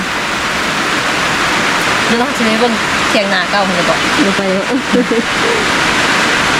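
Rain falls outdoors in a steady, dense hiss while someone speaks over it.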